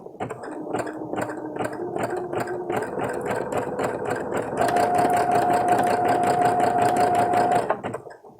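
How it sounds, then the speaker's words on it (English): A sewing machine fitted with a bead-and-rhinestone presser foot begins stitching slowly with a rhythmic, clattering needle beat, then speeds up into a louder, steady whirring run before stopping abruptly. "I'm going to keep this to the left just a little bit as I slowly start to sew"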